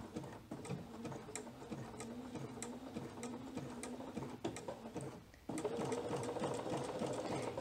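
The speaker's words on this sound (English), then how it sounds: "I always take a scrap of fabric before I start sewing and see how my stitch looks" A sewing machine runs a practice zigzag stitch on a scrap of fabric, a quiet, fast mechanical chatter with regular ticking that pauses briefly and then resumes slightly louder.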